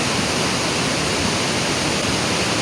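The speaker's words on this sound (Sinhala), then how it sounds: "මේක තමයි කිරිඳිවේට වතුර යන්නේ." Water of the Kirindi river rushes below sluice gates in a steady, dense roar, loud and close with no pause across the short stretch.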